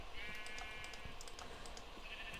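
A sheep bleats in Minecraft, a wavering, nasal cry heard near the start and again briefly at the end, over a soft, constant background with faint clicking.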